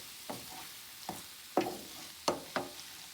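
Ground meat frying in a pan on a stove over medium heat, with spaced stirring scrapes and bursts of sizzle rising every second or so, close and fairly quiet, no talk.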